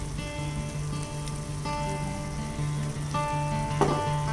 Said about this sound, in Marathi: पूर्ण हा मसाला या तुपावर आपल्याला फ्राय करायचा आहे आणि त्याच्यातच आपल्याला कोलंबी शिजवून घ्यायची आहे